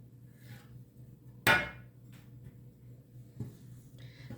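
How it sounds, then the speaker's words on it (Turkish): Soft dough is cut in two with the back of a knife, giving one sharp close knock on the board followed by a fainter tap, with quiet room sound between. "Şimdi hamurumu ikiye kesiyorum."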